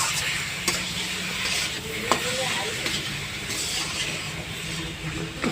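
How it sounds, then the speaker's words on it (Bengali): Taro leaves seasoned with salt, a little sugar and turmeric are stirred in a sizzling pan, with steady frying hiss and repeated spoon scrapes and clicks close by. "একটু নেড়ে নেব।"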